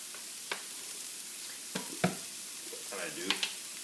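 Onions and jalapenos brown together in a pan, a quiet steady hiss broken by a few sharp clinks and scrapes of a utensil, close by, with no one speaking.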